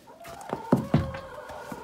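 Backyard hens cluck on a snowy day. A few soft clucks lead into two louder, close clucks in quick succession, with fainter murmurs trailing after.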